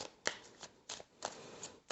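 Quiet riffling snaps of playing cards being shuffled, a few soft rhythmic bursts in close succession.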